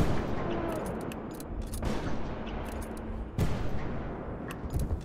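Gunshots fired at a dinosaur in a hunting video game, two sharp, booming rifle blasts a couple of seconds apart over a low outdoor ambience, loud and close.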